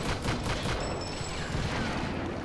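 Tank cannon and gunfire in World of Tanks, loud dense bursts of firing and rumbling blasts packed into a couple of seconds, with no talking.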